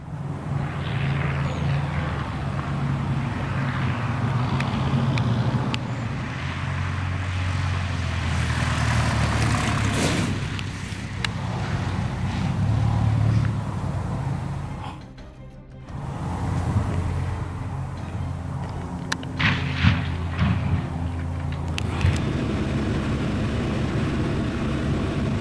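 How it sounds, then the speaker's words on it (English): A Whitman Tailwind W-10 light aircraft in flight on a test flight in New Zealand, its engine drone loud and continuous with a brief dip midway, no voices. "a Whitman Tailwind W-10 aircraft experienced a failure that led to a crash"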